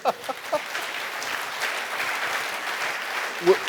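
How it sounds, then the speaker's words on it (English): Audience applause at a conservative political gathering, a steady broadband wash of clapping from a crowd that holds evenly for several seconds, with a voice rising briefly near the end. "Can y'all give Eric a round of applause?"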